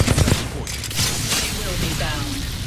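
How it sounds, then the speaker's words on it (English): Rapid bursts of automatic gunfire from a firefight in the battle royale game Apex Legends, dense and continuous across the short span, with game voice lines mixed in. "Opening fire."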